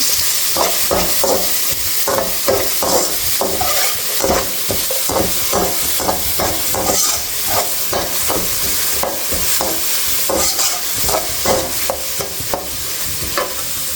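A pan stir-fry with turmeric keeps a constant loud sizzle while a spoon scrapes and stirs in quick repeated strokes.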